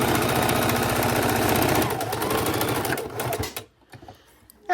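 A sewing machine runs at a fast steady rattle, its needle hammering loud and close, then slows and stutters to a stop, leaving near silence and a final small click.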